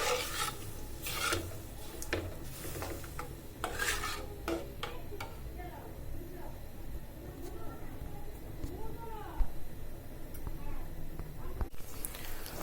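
Spice paste for bitter greens stir-fried in a pan, with repeated scraping and stirring strokes over a soft sizzle, close and intermittent, as a voice talks in the background.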